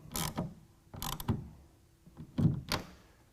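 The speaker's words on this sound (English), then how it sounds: "and then you can put the ratchet on." Ratchet tightening a clamp for a BAKFlip MX4 tonneau cover on a 2019 Ram 1500 bed rail, heard as three short bursts of metallic clicking and turning, close and fairly loud, with quiet gaps between.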